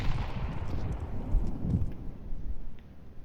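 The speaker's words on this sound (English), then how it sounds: "Grenade out." A grenade blast in a bomb-defusal style first-person shooter, a muffled low rumble and boom rolling over a few seconds with a dull mid-range thud and a fading tail, no clear talk.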